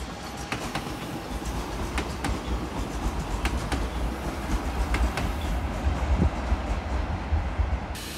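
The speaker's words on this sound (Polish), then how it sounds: "I mamy wjazd składu Regio z Raciborza do Wrocławia Głównego." A Regio train from Racibórz pulls into Wrocław Główny station, with a loud steady rumble of wheels on rails, repeated clicking over joints and a few sharp metallic clanks along the way.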